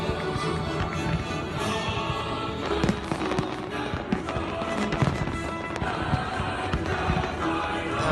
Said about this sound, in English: And off go the fireworks.